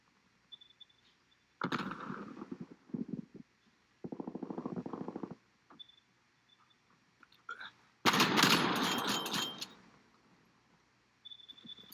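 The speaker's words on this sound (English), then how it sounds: "Every bullet you see me firing, I have to manually" A video game gun fires in several separate bursts of rapid shots, close and loud, with quiet gaps and small clicks between them, the weapon loaded one bullet at a time.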